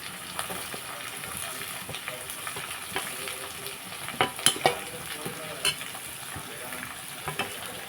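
Green chillies and onions frying in a pan, a continuous close sizzle broken by spoon scrapes and a few louder metallic clanks as the mix is stirred, with no talking.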